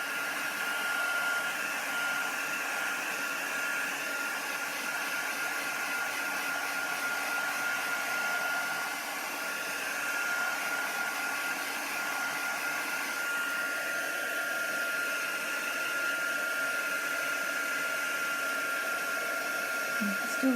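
A heat tool blows hot air onto the back of a card covered in kitchen tinfoil, a steady, loud whooshing hiss that runs unbroken from start to end with no talk.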